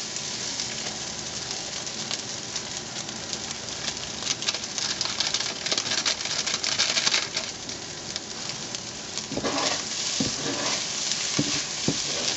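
Shrimp stir fry with sprinkled seasoning being mixed in a hot pan, a steady sizzle with intermittent scraping and tossing sounds, close and continuous.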